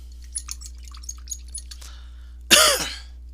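A single sharp cough bursts out near the mic in a quiet room, preceded by a few faint ticks and taps, then fades quickly.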